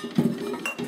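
Dirty dishes shifting in a kitchen sink give a brief, muffled clink and clatter close by.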